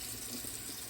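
Hot water running from a bathroom tap for shaving, a steady close hiss of flowing water with no pauses.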